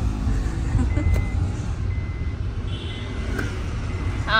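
A car idles and runs steadily nearby, its low engine rumble continuous throughout with a couple of faint mechanical clicks and no talk.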